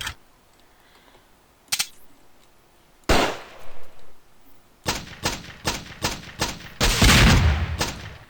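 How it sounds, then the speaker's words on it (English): Rocket launcher blasts from the video game Raze 3: a sudden roaring explosion followed by a rapid string of sharp, loud bangs in quick succession, ending in a dense burst of fire. "Did I just get hit in the face by a rocket?"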